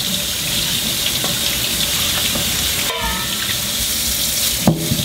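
A red-fleshed fruit radish, still muddy from the field, being rinsed under a running kitchen tap: steady splashing water with occasional clunks and handling knocks near the end, close and continuous.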